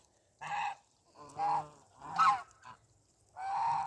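Several loud goose honks in separate bursts in a farmyard poultry yard, close by, with brief pauses between calls and no talking.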